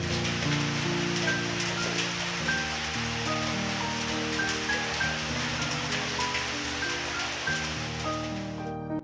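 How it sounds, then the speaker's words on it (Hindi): Heavy rain pours steadily outside an open home window, a dense, continuous wash of drops hitting surfaces with no break and no voices. "लेकिन अब जो बारिश है वो काफ़ी ज़्यादा तेज़ हो गई थी"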